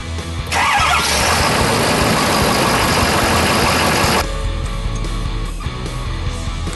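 A truck's 6.7-liter twin-inducer turbocharged engine rated at 390 horsepower fires with a loud, dense roar for several seconds, then drops abruptly into a steady, lower idle rumble.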